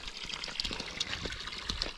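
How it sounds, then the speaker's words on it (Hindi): A mountain water spring runs and splashes steadily nearby, a continuous gushing, bubbling flow that stays fairly loud with no voices over it. "यह है जी पानी का चश्मा"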